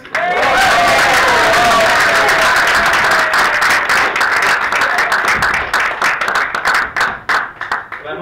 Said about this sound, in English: Mark, everyone give Mark a big round of applause.